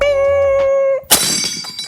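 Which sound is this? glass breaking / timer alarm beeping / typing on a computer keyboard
glass breaking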